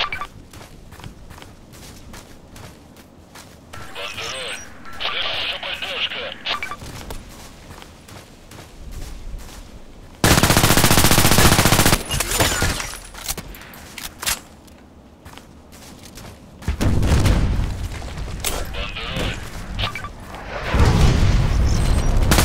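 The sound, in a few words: sniper rifle gunfire in the video game Contract Wars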